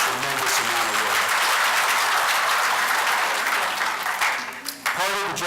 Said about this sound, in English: You should give yourselves a round of applause